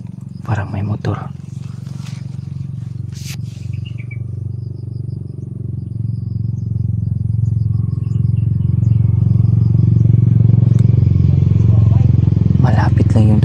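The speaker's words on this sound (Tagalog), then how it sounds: "May mga dumadaan na mga motor." A motorcycle engine rumbles along a nearby road inside a video game, a steady low drone that grows slightly louder over several seconds as it passes, with brief clicks and game effects on top.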